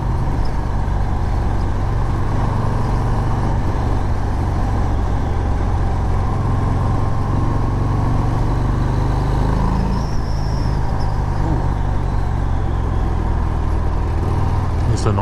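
A 2019 Harley-Davidson FXDR motorcycle with a huge rear tyre cruising through sweeping corners, its engine a steady low rumble mixed with wind noise, continuous and close, with no talk.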